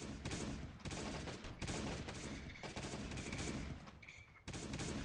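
Rapid bursts of automatic gunfire in the survival game Last Day on Earth, loud and close, with short pauses between volleys that repeat for the whole stretch.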